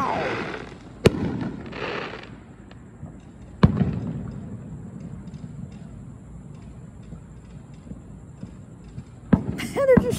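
Fourth of July fireworks go off in the distance, with a couple of sharp booming bursts and scattered crackle over a steady outdoor rumble; a louder pop and whistling sparkle come near the end, and a voice is heard faintly early on.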